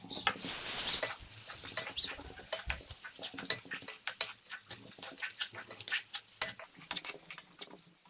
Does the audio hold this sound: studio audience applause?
no